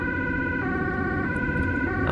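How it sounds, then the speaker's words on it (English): A Dutch ambulance siren sounds steadily and loudly throughout, its stacked tones holding close as it pushes through heavy rush-hour traffic, with road noise underneath. "And the ambulance just threads the needle right through."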